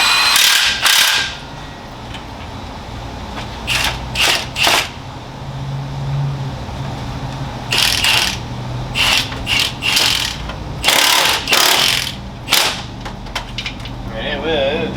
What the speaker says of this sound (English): That's one of Milwaukee's finest. 1/2-inch impact.